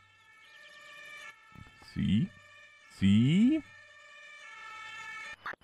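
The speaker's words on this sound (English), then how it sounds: "sounds like the ambulance is already here" An ambulance siren in the emergency-services video game Emergency 4 wails in a long rising and falling tone beneath a brief spoken word, with a few louder rising electronic sweeps breaking through midway.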